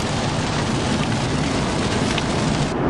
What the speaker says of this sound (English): it's pouring, raining outside